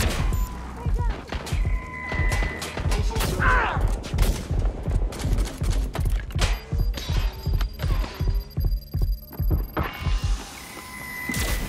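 A spider turret in Watch Dogs: Legion fires a long run of rhythmic rapid shots, close and steady, under occasional game voices. A clicking mechanical layer sits on top of the shots.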